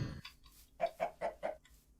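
A chicken in the Minecraft video game gives four evenly spaced clucks in a quick row after a brief thump, quiet and close with no voices.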